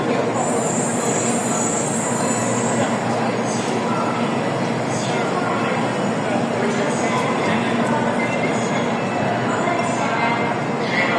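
A Japanese bullet train departs with a dense, continuous rushing roar, and high wheel squeal sits over the steady rumble throughout.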